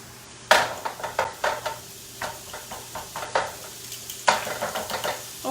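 Finely chopped carrot, celery and onions cooking down in a pan for Bolognese sauce, a sharp sizzle burst followed by repeated spatula scrapes and stirring strokes over a steady close fry.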